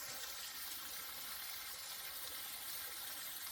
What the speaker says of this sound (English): We've got a little waterfall coming down.